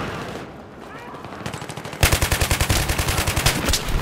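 Light machine gun (RKM) firing in Battlefield 3, a loud rapid rhythmic burst of evenly spaced shots starting abruptly after quieter game ambience and lasting about two seconds.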